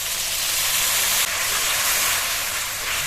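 Steady loud sizzle and steam hiss as a splash of water hits salt, turmeric, coriander, cumin and Kashmiri chili powder frying in a pan, continuous and close with no talk.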